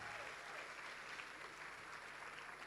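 Sustained audience applause at the Herald NMU Citizens of the Year 2025 awards ceremony, a dense, even wash of clapping heard from within the room.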